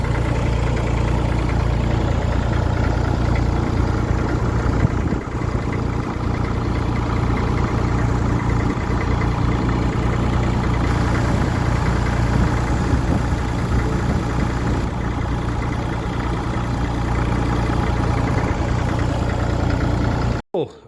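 A Massey Ferguson 35 tractor engine runs steadily on a test drive along a main road, a constant low droning rumble that continues unbroken and close until it cuts off abruptly at the end.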